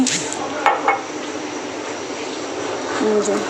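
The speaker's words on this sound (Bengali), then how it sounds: "গরু মাংস রান্না করতেছি" Beef curry sizzling in a pot while being stirred, a soft steady hiss with occasional clinks of a spoon against the pot, close by.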